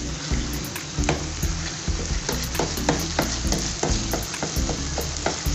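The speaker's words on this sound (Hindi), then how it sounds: "2-3 मिनट और भूनते हैं इसको, थोड़ा सा ऑयल ऊपर आ जाए इसके।" Tomato chutney sizzles and fries in oil in a pan while a spoon stirs and scrapes it in repeated strokes, loud and close with no talking.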